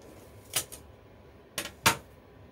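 Scissors snip through fabric trimmed around a round punch needle piece, giving two pairs of quick, crisp cuts close by in an otherwise quiet room.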